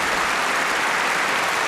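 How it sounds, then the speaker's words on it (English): Dense, steady applause from a crowd fills the whole moment, even and unbroken at constant loudness, with no voices over it. "applause is still going"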